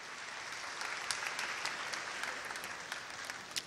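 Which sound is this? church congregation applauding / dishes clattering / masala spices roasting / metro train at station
church congregation applauding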